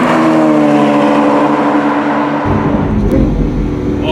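A Lamborghini Aventador SV engine roars loudly while driving, a harmonic rising note that suddenly deepens into a heavier, rumbling surge partway through, close and continuous, with no voices.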